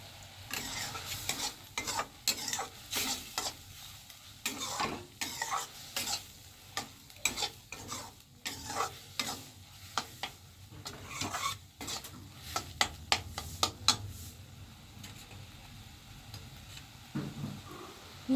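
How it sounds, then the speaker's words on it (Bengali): Food being stirred dry in a hot pan, with a utensil scraping and clattering in irregular bursts over a low sizzle, fairly close and without talk, easing to a quieter simmer near the end. "ওটা একটু নাড়াচাড়া করে নেব"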